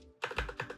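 Quick run of keystrokes on a computer keyboard while importing code in a JavaScript file, about five close, crisp clicks in an uneven burst after a brief quiet start.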